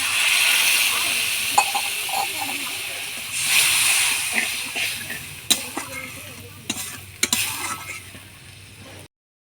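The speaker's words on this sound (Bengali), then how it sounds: "মশলার মধ্যে জল দিয়েছি, গরম জল দিয়েছি" Hot water hits frying masala in a pan, bursting into a loud hissing sizzle that fades unevenly, broken by utensil clanks and scraping as it is stirred, with some voice present, before cutting out.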